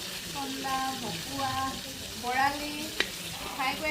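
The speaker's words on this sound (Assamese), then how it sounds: "আমাৰ মুনে পূৰা মাছ ফ্ৰাই কৰি আছে।" Whole fish fries in oil at a home Magh Bihu feast in Assam, giving a steady sizzle with soft stirring under background voices.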